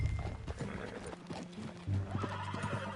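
A horse in a Red Dead Redemption 2-style western video game whinnies and snorts amid the clip-clop of hooves, with a faint music-like background bed.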